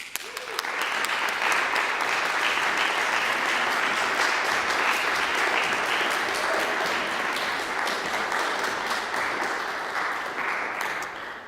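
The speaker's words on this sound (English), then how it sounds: "let's give John a round of applause as he comes out and begins his lecture recital" A seated audience applauds at a music lecture recital, with steady, full clapping that stays loud and even for several seconds before tapering slightly toward the end.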